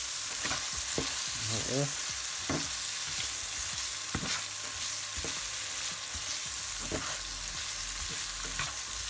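Onions fry in a pan as white soy sauce is stirred in: a continuous close sizzle broken by repeated spatula scrapes and knocks, with a brief spoken remark.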